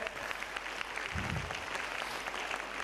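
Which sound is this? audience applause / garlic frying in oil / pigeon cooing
audience applause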